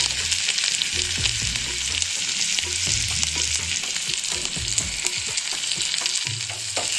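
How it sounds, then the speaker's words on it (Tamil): Fennel seeds, garlic and onion fry in hot oil for tomato soup, giving a continuous close crackling sizzle with regular scraping stirs throughout. "இது ரெண்டும் நல்ல செவக்க பொறிச்சிட்டு சூப்பில் சேர்த்துற வேண்டியதுதான்"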